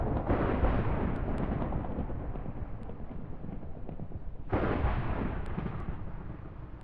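A thunderstorm in the Minecraft modpack GregTech New Horizons, with two long, loud rumbling thunder rolls, the second starting abruptly midway.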